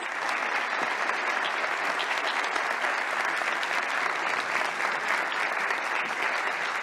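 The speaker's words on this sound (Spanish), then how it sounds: "Un aplauso para vosotros que os lo merecéis." Dense, sustained audience applause fills a large hall at the opening ceremony of the New Space España 2022 event, many hands clapping at a steady, moderately loud level for the whole stretch.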